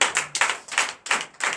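A church congregation claps at a night deliverance and prophecy service, in five or six separate bursts of hand claps, each sharp and fading, fairly close and alone without talk.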